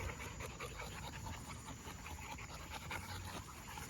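A dog panting rapidly and rhythmically close by on a hot day after a walk, a steady run of quick breaths with no talking.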